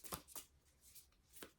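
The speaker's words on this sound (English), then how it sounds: "These cards are a little hard to shuffle" Three or four crisp bursts of tarot cards being riffled and shuffled, close up, with short pauses between, no talking.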